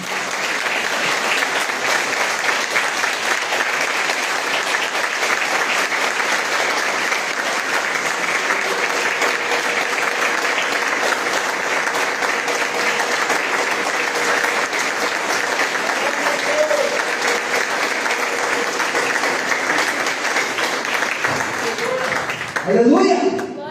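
Church congregation applauding together during an evening worship service, steady sustained clapping from a large crowd filling the room, tapering off near the end with a brief shuffle.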